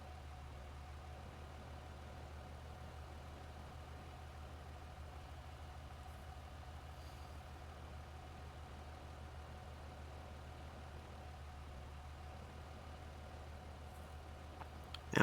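A fire engine pump in the firefighting video game Into the Flames runs at a low, steady idle-like drone. It is faint and continuous and heard alone, with a small click at the very end.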